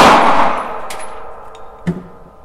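Rapid shots from a SIG Sauer 320C pistol on a shooting range: a loud opening report with a long ringing decay, followed by fainter sharp cracks and metallic clinks, with no voices.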